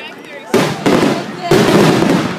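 Fourth of July fireworks burst in three loud, sharp detonations, each followed by a crackling, sizzling tail that rings out across the open air.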